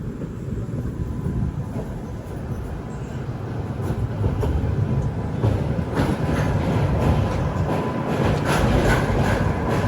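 Loud, steady rumble and rattle of the Janshatabdi Express crossing the Kalinga river bridge, heard from aboard the moving train, swelling slightly toward the end with no voices.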